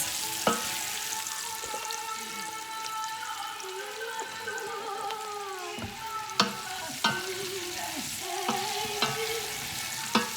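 Meatballs sizzle steadily in a pan, with occasional scrapes and clinks of a utensil stirring them.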